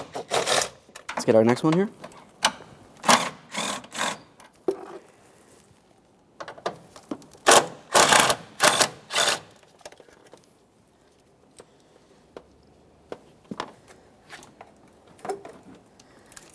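Rapid bursts of clicking from a ratchet backing out 10mm mounting bolts on a 2014-2019 Toyota Corolla PCM bracket, several short loud runs separated by pauses, with someone talking between them.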